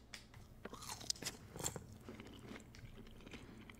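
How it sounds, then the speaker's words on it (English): Someone chews fries close to the mic, quietly and irregularly, with several sharp crunchy bites and soft mouth sounds between them. "Chewing sounds."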